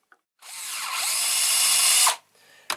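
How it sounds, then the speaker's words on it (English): Power drill bores into a deer antler with a steady high whine lasting about two seconds, stopping abruptly, followed by a brief short burst near the end. "drill about halfway through your antler"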